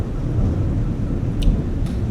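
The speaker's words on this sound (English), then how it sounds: "We have a storm here, so hope that doesn't" Thunder rumbles loudly and continuously through a storm, a deep low roll with faint rain hiss on top, sustained throughout with no speech.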